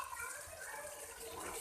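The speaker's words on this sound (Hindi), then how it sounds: "तकरीबन 2 कप मैं इसमें पानी डाल रही हूँ" Water poured into a pot of masala fish gravy, about two cups, a steady soft gushing and splashing that runs continuously and fairly quietly, with no voices.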